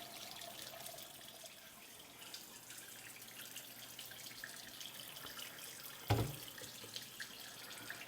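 A glass propagation bottle rinsed under running tap water, a steady faint stream with a brief louder splash or clunk midway, heard at a distance.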